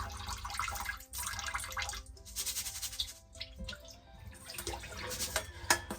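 Rinse water poured and drained off rice being polished by hand for onigiri, a steady splashing, trickling flow with drips close by, running almost continuously with brief pauses.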